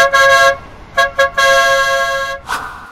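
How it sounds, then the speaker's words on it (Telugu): A vehicle horn blares on an empty road in a rapid sequence of bursts: a long honk, two short toots, then a sustained blast, loud and close, followed by a fainter final toot. "ఆడు అసలు రోడ్ అంతా ఖాళీగా హార్న్ ఎలా కొట్టుకుంటూ వెళ్ళిపోతున్నాడు"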